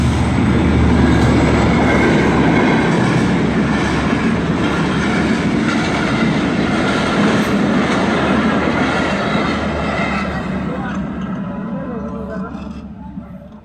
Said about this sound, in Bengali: ট্রেন আসতেছে এখন